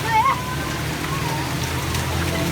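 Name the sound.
heavy rain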